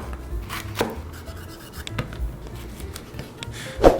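A knife chops onion diagonally on a board, giving a few distinct close cuts spaced irregularly over a faint background.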